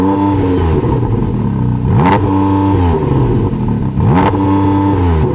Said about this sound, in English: So let's have a listen to it. Go on, start the engine.